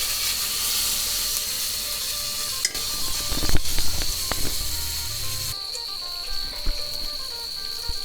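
Mackerel fries in a pan over a strong turbo burner: a continuous bright sizzle, joined by a few clattering stirs and pan knocks in the middle, with no talking.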